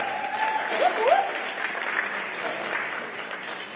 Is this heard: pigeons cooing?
no